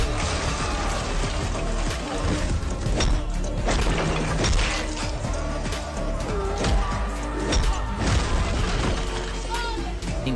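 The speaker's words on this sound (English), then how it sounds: "He catches another trying to sneak attack and smashes a bottle down on him." A glass bottle smashes down on a thug during a brawl, a loud crash amid a dense run of booming hits, shattering and bursts that carry on for several seconds over a busy soundtrack.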